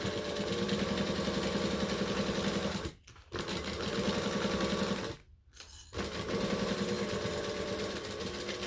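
A sewing machine back stitching a clutch seam hums in a steady close mechanical drone, broken by two brief pauses before it starts running again.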